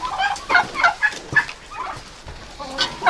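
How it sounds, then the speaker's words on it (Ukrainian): A young turkey courting turkey hens in a cold winter poultry yard, giving a run of short clucking and gobbling calls in quick bursts, fairly close and moderately loud. "Ось молодий індик заігрує до індичок."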